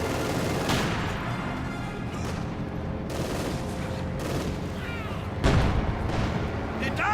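Battle din in the strategy game Company of Heroes 2 as Soviet forces engage German Grenadiers, with dense continuous gunfire and booming blasts layered into a loud, unbroken wash.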